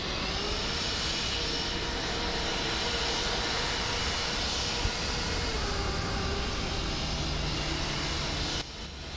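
Airliner taking off in Microsoft Flight Simulator 2024 at Manchester runway 05 left, a steady loud jet engine roar held at full power for about nine seconds, with no voices, then dropping slightly at the end.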